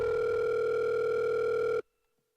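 A steady telephone dial tone plays in the game Monitor, clear and continuous for under two seconds before cutting off abruptly into silence.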